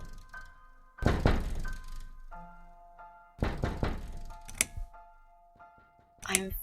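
Heavy knocking at a door in The Cat Lady, two loud clusters of thudding knocks separated by a pause, close and resonant, over faint tonal background music.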